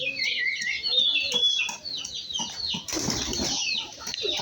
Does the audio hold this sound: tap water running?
no